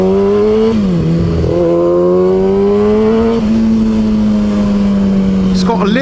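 Kawasaki ZX6R motorcycle engine droning loud and close while riding, pitch easing down then climbing and holding steady as the bike cruises, with a rev change near the end.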